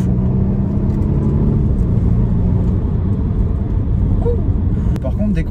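A Volvo V60 T8 plug-in hybrid wagon accelerates with a steady, loud low engine and road rumble heard from inside the car, while a voice talks over it.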